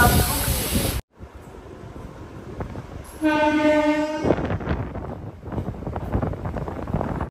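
A train arrives at Kavali railway station at about 80 km/h, rumbling and clattering on the rails, wind buffeting the microphone, and a loud horn blares for about a second midway through.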